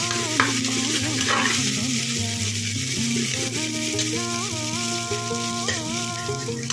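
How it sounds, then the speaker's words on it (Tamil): Homemade ginger garlic paste being sautéed in a pan: a continuous close sizzle with stirring scrapes throughout, and a faint tonal hum or music running underneath. "ஒரு ஸ்பூன் நான் இஞ்சி பூண்டு பேஸ்ட்டு ஹோம்மேடு தான் இஞ்சி பூண்டு பேஸ்ட்டு நானே அரைச்சிது அது போட்டு நல்லா வதக்கிட்டுருக்கேன்"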